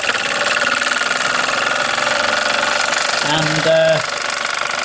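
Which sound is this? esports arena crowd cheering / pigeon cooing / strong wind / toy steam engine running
toy steam engine running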